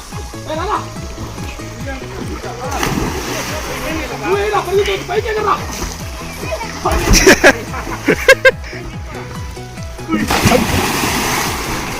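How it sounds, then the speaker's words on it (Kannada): People splash and dive into a well used as a swimming pool on a hot summer day, with irregular splashes and churning water under excited voices and chatter. "ಬರ್ರೋ ಒಬ್ಬೊಬ್ರು ಒಂದೊಂಥರ ಡೈಗಳು."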